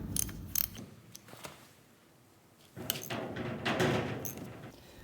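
Wrench tightening a fitting hard on a Roosa Master/Stanadyne JDC injector pump from a John Deere 7020 to press in crush washers, with a few faint clicks, then a sustained louder bout of close mechanical creaking and ratcheting.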